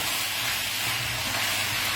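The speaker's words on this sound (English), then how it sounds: "So you can hear that's starting to sizzle up" A steady, even hiss of wine sizzling as it deglazes a hot pan for beef stroganoff, continuous and fairly loud with no voices.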